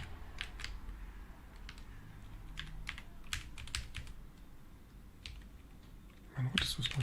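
Someone types on a computer keyboard in irregular bursts of crisp, close key clicks, with a louder clatter of keystrokes near the end.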